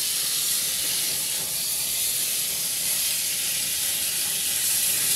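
Margarine sizzles in a hot pan while pork adobo cooks, a steady bright hiss that holds evenly throughout with no talking.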